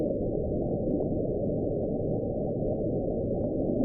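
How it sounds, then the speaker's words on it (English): Unidentified underwater sound called Julia, recorded by NOAA hydrophones near Cape Adare, Antarctica, in 1999: a steady, dense low-frequency drone holding at constant loudness throughout, with no breaks or other sounds. "Julia is a name given to another unidentified underwater sound"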